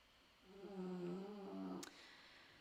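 A little puppy snores indoors, one drawn-out, close nasal snore followed by a brief sharp click, heard alone and fairly quiet.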